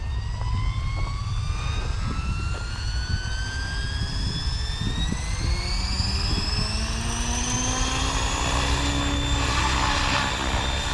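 An Oxy5 RC helicopter flies outdoors, its whining rotor and motor tones sweeping steadily up in pitch as it spools up and climbs, with the high whine alone and fairly close throughout.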